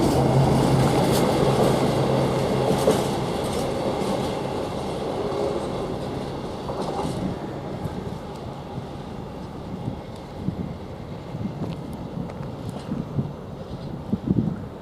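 A freight train rolls through Ely station, a loud continuous rumble with wind buffeting the microphone, gradually easing and turning to scattered clanks and rattles as the wagons pass.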